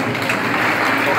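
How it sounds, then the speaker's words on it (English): Big round of applause from a seminar audience, a dense, continuous wash of clapping with no gaps. "welcome each and every one, each other, to this seminar by a big round of applause"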